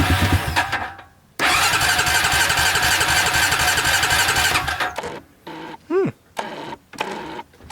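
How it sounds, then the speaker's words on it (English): A Honda Rancher 350 quad engine cranks briefly, then catches on starting fluid and runs loud and steady for several seconds before cutting out, followed by short bursts and a sharp squeal amid clatter. "Starts on starting fluid"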